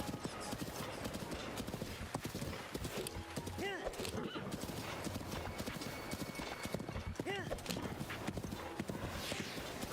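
A steady stream of galloping hoof clip-clops from a horse in Zelda: Breath of the Wild, with brief neighs mixed in and a voice talking over the hoofbeats throughout.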